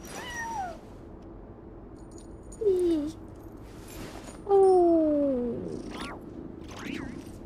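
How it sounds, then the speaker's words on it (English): A cat in the video game Genshin Impact meows several times, with drawn-out, falling cries spaced a second or two apart over a soft ambient hum. "Oh, Kitty"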